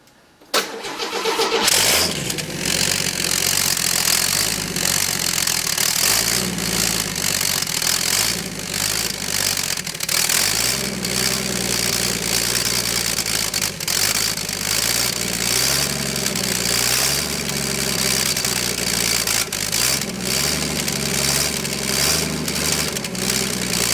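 A rebuilt, budget-boosted turbocharged 250 engine cranks and catches within the first couple of seconds, then settles into a loud, steady idle that runs on uninterrupted, with no voices.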